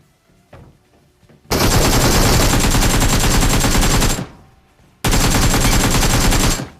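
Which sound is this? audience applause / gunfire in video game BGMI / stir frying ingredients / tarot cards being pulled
gunfire in video game BGMI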